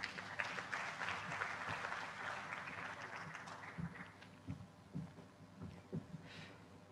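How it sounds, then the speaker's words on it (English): Applause from a conference audience for a panel at an energy industry event, a dense steady clapping through the first half that thins into scattered claps, with a low hum underneath. "Ladies and gentlemen, another round of applause for this panel."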